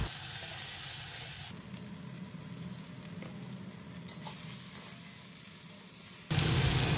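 Onion and tomato frying in hot oil with whole-spice tempering for a tomato fish curry give a steady, loud, close sizzle that surges even louder at the end.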